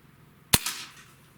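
A Beeman Commodore 1365 air rifle fires a single sharp, loud crack close by, followed by a short hissing ring-out that fades within a second, with no talking.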